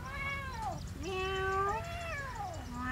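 A kitten meows several times in a row, close and clear, with rising and falling drawn-out calls and no talking over them.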